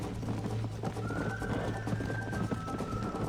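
Horse from the Red Dead Redemption video game, with a whinny and hoof sounds over a steady low game soundscape, a thin sustained tone running through the middle.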